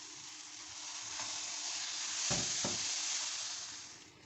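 Mango puree sizzles and bubbles softly in a hot pan as it is stirred into a quick mango dessert, a continuous frying hiss swelling slightly in the middle with a couple of light scraping knocks.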